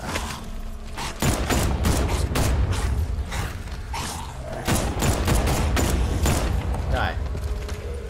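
Gunfire in the video game Batman: Arkham Knight, repeated loud bursts of shots with mechanical clanks spread across the clip, while a voice talks underneath.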